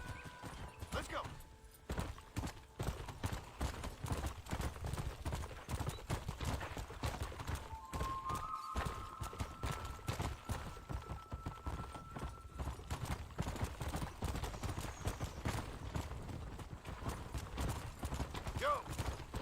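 A horse gallops in Red Dead Redemption on PC, its hooves beating a steady, rapid clip-clop that runs continuously at moderate volume, with faint game ambience and occasional distant gunfire behind it.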